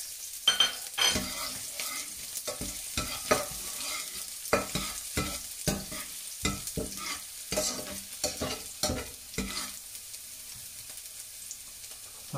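Garlic fries in a pan while a utensil stirs it, giving a steady close sizzle broken by frequent scraping clicks, with no talk.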